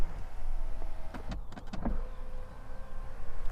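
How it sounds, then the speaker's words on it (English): Electric window motors whir quietly in a Rolls-Royce Cullinan, a short close mechanical whine with a few faint clicks over a low cabin hum. "And the window motors."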